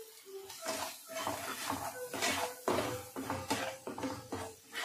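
Spice masala with Kashmiri red chilli powder and salt being stirred and scraped in a pan for a cauliflower dish, with repeated metallic clinks and scrapes of a spoon against the pan over a faint sizzle.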